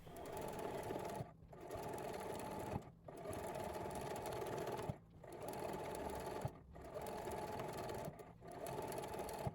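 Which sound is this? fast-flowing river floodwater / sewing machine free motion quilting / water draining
sewing machine free motion quilting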